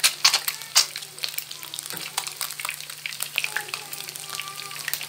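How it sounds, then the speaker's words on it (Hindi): Onion frying in a pan for egg curry, a steady close sizzle with scattered crackles and a few stirring scrapes, no voices over it. "प्याज डाला, इसको ब्राउन थोड़ा सा करेंगे।"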